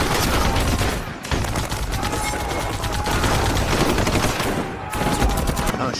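Dense bursts of rapid gunfire in a combat clash between elite special forces and rebels, loud and continuous with a brief lull, following a landmine blast.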